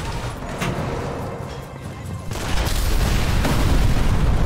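Explosion of the main ammo store in the video game Sniper Elite 4, a loud sustained rumbling blast with crackling bursts that swells louder midway and keeps roaring to the end.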